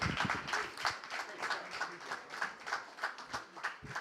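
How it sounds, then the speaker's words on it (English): Scattered audience clapping for a comedian at a comedy night in a dining venue, fairly faint and uneven with rhythmic claps over a few seconds. "round of applause for Nxttime"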